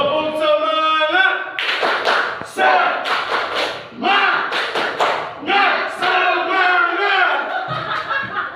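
A group claps through the tepuk semangat chant at a school gathering, rhythmic bursts of clapping mixed with loud shouted chanting voices, near and lively.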